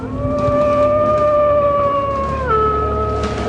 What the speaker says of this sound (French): C'est un loup que nous avons entendu hurler.